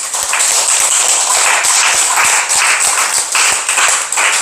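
A church congregation claps together during a worship service, a dense, steady wash of many hands with a few sharper individual claps standing out, continuing loud and even throughout.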